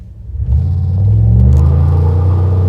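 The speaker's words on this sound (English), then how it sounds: "Give it another little acceleration." Close, loud rumbling acceleration from a Dodge Cuda SRT Widebody as its engine builds and holds a deep roar while the tires spin, with no voices over it.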